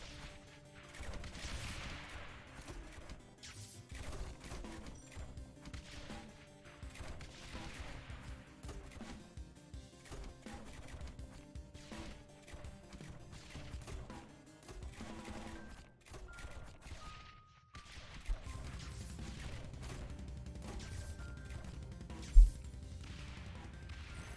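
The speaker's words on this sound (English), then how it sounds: "those mortars can hopefully do some really nice damage" Mortar towers firing in the tower defense game Rogue Tower: repeated dull thumps and crashing impacts recur at irregular intervals under a low musical background, mostly moderate in level with one sharp louder hit near the end.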